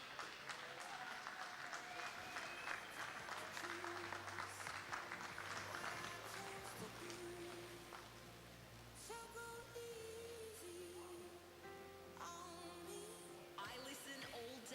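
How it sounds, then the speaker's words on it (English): A crowd applauds at an outdoor Christmas carnival in Launceston, dense clapping at first that thins and mixes with music and tones as it continues. "I am just going to give a massive round of applause to Dahlia Haynes for staying upright."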